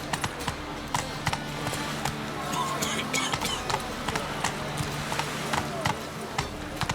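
Horse hooves gallop in The Witcher 3, a quick, close rhythm of hoofbeats that runs throughout, with faint ambient noise behind.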